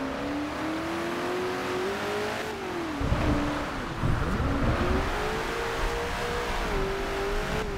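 A mid-mounted V6 in a Lotus Evora revs through gear changes in Forza Horizon 2, its engine tone rising and dipping steadily with a brief rough patch, close and continuous without voices.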